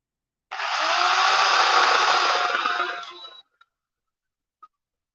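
An electric chainsaw cuts through wood in one steady buzzing pass of about three seconds, then stops abruptly, followed by two small knocks in otherwise silent surroundings.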